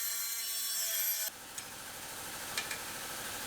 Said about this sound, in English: So we'll cut these little triangles off and allow the jack to fit in there.